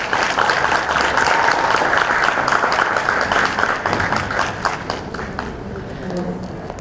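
A seated audience at a school appreciation award and dinner ceremony claps in a sustained, dense round of applause that fills the room, then slowly thins out toward the end.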